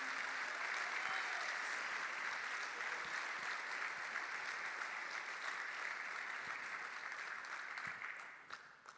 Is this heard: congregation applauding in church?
yes